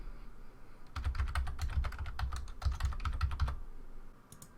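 Computer keyboard keys clicking as an IP address is typed, a quick run of close, crisp keystrokes in two short bursts before the room goes quiet.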